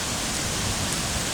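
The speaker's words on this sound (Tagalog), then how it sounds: "ang lakas ng ulan" Heavy rain pours in a dense, even hiss at Greenhills, San Juan City, Philippines, a constant wash of noise with no pauses or voices.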